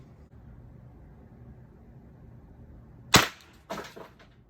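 Pepperball TCP launcher with a 6-inch Lapco barrel firing rounds into wood: after a quiet stretch, two sharp, loud, close cracks land about half a second apart.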